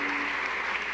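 Under a second of packed lecture-hall applause, a steady wash of many clapping hands without speech.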